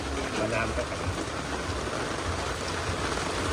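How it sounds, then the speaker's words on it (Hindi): Heavy rain pours steadily, a dense, even hiss of water filling the whole space without a break. "बारिश भी तेज हो गई है।"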